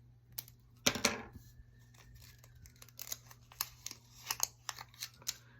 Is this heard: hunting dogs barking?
no